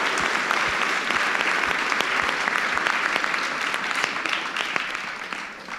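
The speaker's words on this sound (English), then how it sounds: "Let's give them one big round of applause" An audience at a school valedictory ceremony applauds the student council leaders, sustained loud clapping with sharp individual claps audible through the crowd, easing off slightly toward the end.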